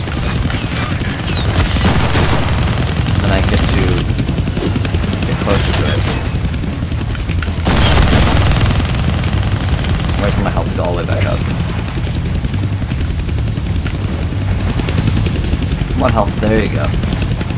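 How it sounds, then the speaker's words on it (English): A helicopter in the Deadpool video game drones steadily throughout, mixed with loud bursts of gunfire and booms, while someone talks over it. "I can't kill that chopper with my guns, but I can scare him"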